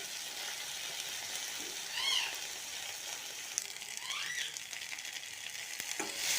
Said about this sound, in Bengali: এবার পেঁয়াজ কুচি আর পেঁয়াজ কলিগুলো ওতে দিয়ে ভাজবো আমি